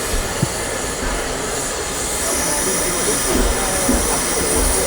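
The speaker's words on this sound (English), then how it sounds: "You need a mini train to get to the other end of the platform." A miniature train rumbles along a station platform steadily with a constant rolling hiss and occasional clunks, fairly close, in a busy open space.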